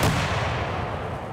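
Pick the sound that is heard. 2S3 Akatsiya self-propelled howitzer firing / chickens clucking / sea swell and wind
2S3 Akatsiya self-propelled howitzer firing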